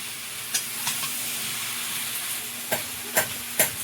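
Garden vegetables fry with salt and turmeric in a pan, giving a continuous close sizzle and hiss broken by several sharp scrapes and knocks of stirring.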